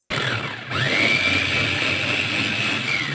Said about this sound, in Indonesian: Lalu ini di blender sampai halus.